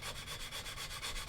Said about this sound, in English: Just to knock the worst of that height down with the slightly coarser side of the sanding